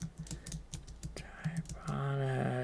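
Typing on a computer keyboard, a quick irregular patter of close, soft key clicks that stops abruptly as a steady tone takes over.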